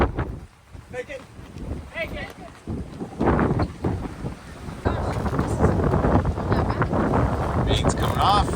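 Wind buffets the microphone aboard a sailing ship as crew haul braces to turn the topsail, loud gusty roar growing stronger and steady through the second half, with people talking throughout.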